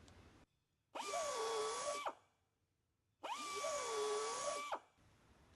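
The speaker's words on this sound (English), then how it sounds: "we'll go in there and we'll ream the injury out and remove the damage" A carbide cutter spinning in a buffing tool reams out damage in a tire injury, giving two separate high-pitched whining bursts of about a second each. Each burst has a dipping, wavering pitch as the cutter bites into the rubber, with quiet gaps between.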